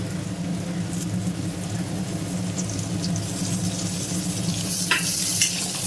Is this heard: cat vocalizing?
no